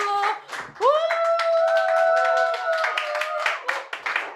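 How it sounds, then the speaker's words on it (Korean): A youth congregation at an online Korean church service claps together, with a voice or sung tone running underneath and sharper rhythmic hand claps rising toward the end. "자, 다시 박수."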